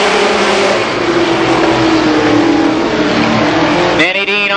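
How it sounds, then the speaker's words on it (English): Late model stock cars race a 10-lap heat at Columbus Motor Speedway, engines droning loud and steady as the pack circles, with a sharp rise in revving near the end; an announcer talks over the roar. "Cars, 10 laps, the first heat race in the late model division."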